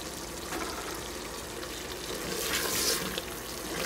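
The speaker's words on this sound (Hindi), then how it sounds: "ये देख रहे हैं हमारा गोश्त भून रहा है" Pieces of masala boti meat fry in a pan with a soft, steady sizzle that swells slightly toward the end and stays fairly quiet and close, with no talking.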